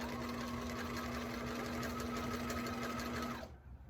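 Sewing machine stitching a T-shirt pillow, running as a steady, fast, even mechanical whir with a constant hum that stops abruptly near the end, heard up close with no talking.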